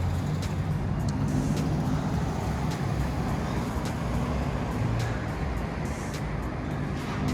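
Continuous city street traffic in Portland, with cars passing and a steady roar of road noise and engines at moderate distance, no talk standing out.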